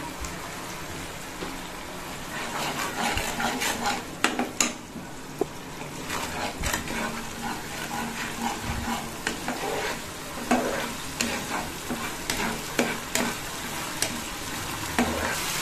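Spice paste with a pinch of salt stir-fries in a pan for a potol dish, a steady sizzle broken by repeated scraping and clacking strokes of a spatula, close and fairly loud, with no voices.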